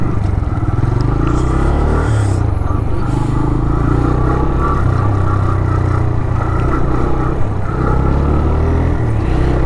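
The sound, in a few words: motorcycle engine at toll gate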